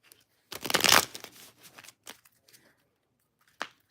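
A deck of tarot cards is shuffled in one quick riffle of dense crisp flutters, followed by softer scattered card taps and a final brief snap in a quiet room.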